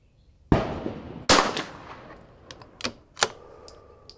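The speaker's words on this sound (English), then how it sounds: "First shot of the day, 1129 feet per second." A Vudoo rimfire rifle firing Eley ammunition on an outdoor range gives a sharp, loud report at close range, followed moments later by a second strong crack and several fainter, distant shots.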